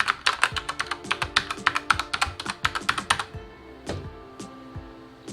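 A Redragon K552 Kumara mechanical gaming keyboard typed on up close, a fast run of sharp clacky keystrokes for about three seconds, then a few isolated louder presses.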